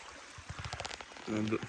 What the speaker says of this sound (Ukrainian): водичка тече